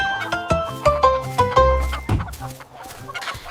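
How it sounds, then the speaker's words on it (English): Chickens cluck and a rooster calls within a cheerful nursery rhyme song, the bird sounds set among bouncy musical notes and percussion at a lively tempo, with no spoken voice. "chickens clucked to start the day"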